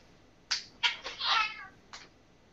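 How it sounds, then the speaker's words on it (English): House cats wrestling, giving several sharp yowls and meows in quick bursts, close by in a quiet room. "That's my cats having a little wrestling match there."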